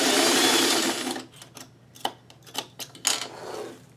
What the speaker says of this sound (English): and then I'm just going to sew